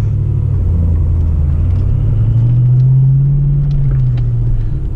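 A 1991 Ford Mustang LX 5.0 convertible with a five-speed, driving at night, its V8 rumbling loudly and steadily from the cabin, the engine note rising and holding briefly as it pulls before settling back.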